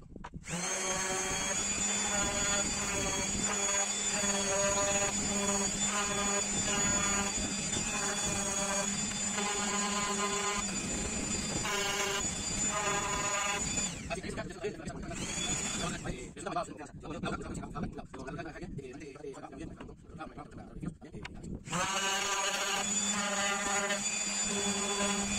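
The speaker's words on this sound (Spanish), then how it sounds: "voy a pasar a lijar, a ver cómo me da con esta lija" Orbital sander working over old recycled wood, a loud steady whine that runs almost continuously, briefly easing and turning rougher mid-way before the full drone returns.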